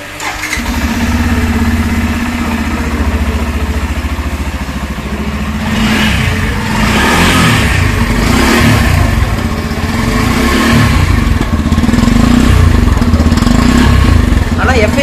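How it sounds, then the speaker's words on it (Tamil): A Yamaha motorcycle engine idles with a steady low hum, then revs up in several rising bursts, loud and close, with people talking faintly underneath. "இதோட இன்ஜின் நாய்ஸ் காமிக்க முடியுமா சார்?"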